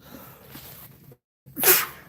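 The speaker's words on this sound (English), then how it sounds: "Hold on one second, I gotta sneeze." A single sharp sneeze bursts out close by after a brief pause, preceded by some quiet breathy rustling.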